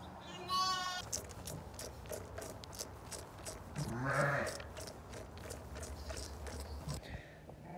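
Several sheep bleat at a moderate distance, a few overlapping calls over outdoor ambient noise and rustling.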